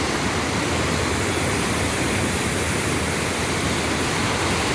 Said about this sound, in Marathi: आज मुळा नदीला पहा किती पाणी वाहत आहे